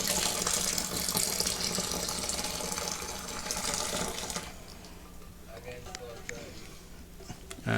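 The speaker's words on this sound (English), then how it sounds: "if we pour it over the lid like so, it will also get any wort that's been left on the lid" Beer wort poured from a Coopers stout kit tin over its lid, a steady liquid stream that runs loudly then thins to lighter trickles and drips near the end.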